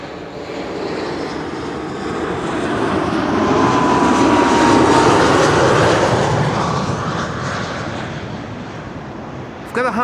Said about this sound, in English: The Retro is now taxiing along the runway to take off from runway 23